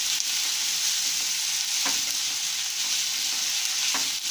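Potato pieces for sabudana khichdi fry in a hot pan with a loud, dense, unbroken sizzle up close, with a couple of faint utensil scrapes and no talking.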